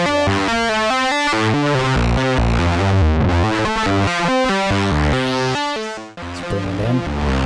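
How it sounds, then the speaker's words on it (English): A heavily overdriven, distorted electric guitar played through a Sovage Engineering Le Braiser pedal plays a run of chords and notes, thick with effects and loud throughout. "right now, I'm gonna overdrive."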